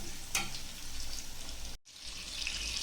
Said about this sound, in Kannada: ನೋಡಿ, ಚೆನ್ನಾಗಿ ಫ್ರೈ ಆಗ್ತಾ ಇದೆ.